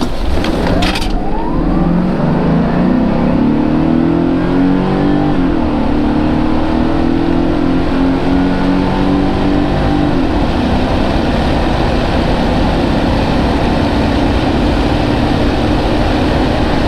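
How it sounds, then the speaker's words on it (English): A Mercedes SL560 R107 in drive accelerates hard from inside the cabin, its engine note rising through the gears before settling into a loud, steady road roar. "Let's have a look how good this acceleration is."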